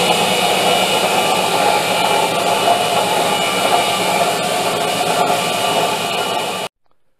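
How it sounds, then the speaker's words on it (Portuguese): Steady, loud whirring hum of a three-phase electric motor run on a single-phase household supply, drawing about 570 watts; constant and close for several seconds before cutting off abruptly. "o motor ficou ali perto de 500 e poucos watts de consumo e rodou"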